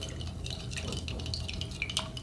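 Sugar mixture for rock candy being stirred in a container, a steady close scraping and swishing with small liquid drips and light clinks throughout.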